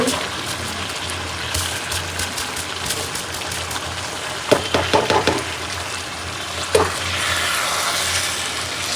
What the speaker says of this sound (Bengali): এই যে চালটা দিয়ে দিচ্ছি